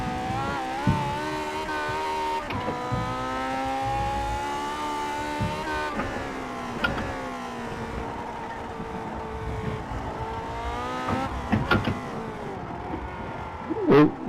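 Race car engine screaming at full throttle on the Road Atlanta GP circuit in a racing video game, climbing in pitch through sustained harmonic whine with brief dips at each upshift to fourth gear, loud and continuous with no talk.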